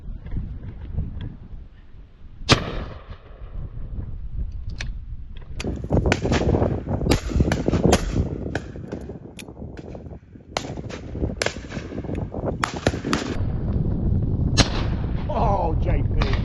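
Shotgun blasts ring out at a clay shoot on the Davenport Estate during Storm Bert, a series of sharp loud bangs, some in quick pairs, over heavy wind buffeting the microphone.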